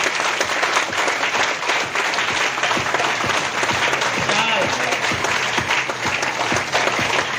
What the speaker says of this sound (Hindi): ताली बजाए, आपके बजाओ।